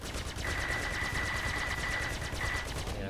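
Gimbal-mounted ship weapons firing in Star Citizen from an Anvil Gladiator, a steady rapid stream of repeated shots with a sustained tonal whine running over most of it.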